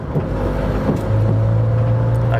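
Volkswagen MK7 Golf R engine and exhaust on a track day, a close, loud low drone that settles into a steady held hum partway through, with faint pops over it.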